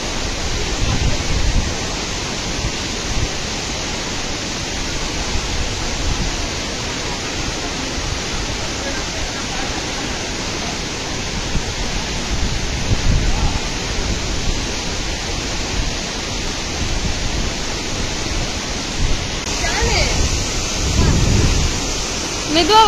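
Agayakangai waterfall in the Kolli Hills, a steady broadband roar of falling water filling the whole stretch evenly, loud and constant with a slight shift near the end.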